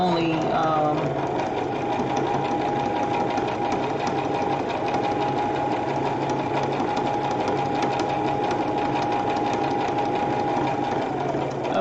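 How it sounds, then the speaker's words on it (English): A sewing machine stitches steadily and continuously, the even mechanical whir running loud and close throughout as it sews rope for an embroidered bowl, working like an embroidery machine. "But it's stitching like an embroidery machine."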